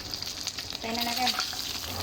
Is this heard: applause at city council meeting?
no